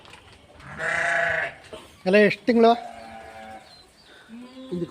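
A pregnant sheep bleats loudly nearby, a long drawn call followed by two shorter bleats, with people talking around it.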